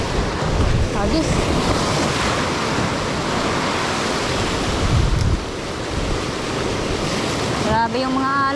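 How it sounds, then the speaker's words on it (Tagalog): Big waves surge and wash on open sea under strong wind buffeting the microphone, a loud, continuous roar with a brief voice near the end. "Grabe yung mga alon."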